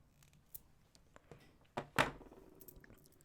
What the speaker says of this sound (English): Snip off this excess tail.